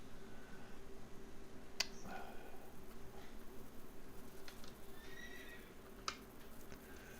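A horse neighs in the Quinfall online video game, a faint whinny under steady ambient game sound with a couple of sharp clicks and light hoof-like noises, no talk.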